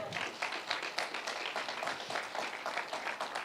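A church congregation claps together, fast irregular hand claps building into steady applause, moderately faint and without talking.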